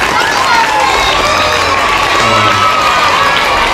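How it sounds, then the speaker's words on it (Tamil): Group of people clapping and cheering after a demonstration of putting out a burning oil pan, dense crowd noise with clapping and some voices, loud and close. "கைதட்டு"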